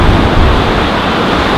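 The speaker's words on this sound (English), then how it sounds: "The water all of a sudden is just coming like" Ocean waves rush up the shore at Bowling Ball Beach in a steady, loud wash of surf that fills the whole moment, close to the microphone with no talking.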